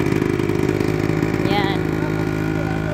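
A motorcycle engine runs steadily and close by on a farm, a continuous mid-pitched drone with a brief higher tone partway through, while voices talk over it.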